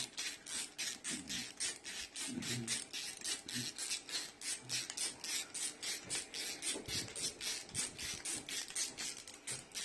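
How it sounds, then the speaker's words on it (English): Rhythmic rasping scrapes repeat about three times a second as a bit grinds through material, close and steady, with a few soft knocks underneath. "I'm just drilling some holes blindly."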